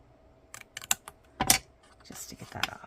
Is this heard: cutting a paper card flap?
yes